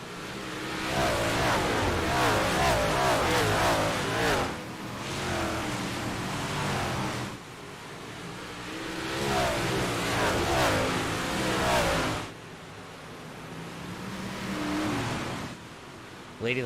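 Race cars in the iRacing simulator roar as they accelerate at Weedsport Speedway in the Northeast series. The engine tones rise in repeated surges, swelling and dropping back as gears change.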